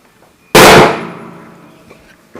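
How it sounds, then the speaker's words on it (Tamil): A hammer comes down once, hard, on a folding table, giving a single loud close bang that rings and fades over about a second, with faint background noise before and after. "சுத்தில வச்சு அடிச்சு காட்டுறேன்"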